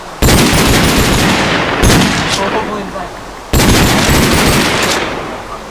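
Loud, close pistol shots in a Minecraft game come in three sharp bursts, each one ringing out and then fading, with no voice over them.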